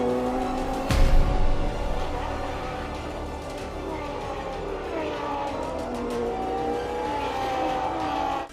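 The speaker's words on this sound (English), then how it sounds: "The car went straight into the wall, and this happened." A Ferrari Formula 1 race car crashes, with a sharp loud impact about one second in, then engine and crowd-like noise continue steadily at a distance.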